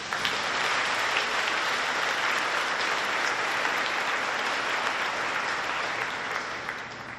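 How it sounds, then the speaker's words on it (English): Sustained applause from a school banquet audience honoring staff, a dense, steady wash of clapping hands that holds loud for the full stretch and eases slightly at the end. "if you guys could give them a round of applause"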